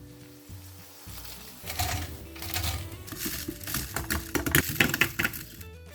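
Breaded cheese balls dropped into hot oil sizzle and bubble, building from a quiet background into a steady, crackling fry with close, busy spattering.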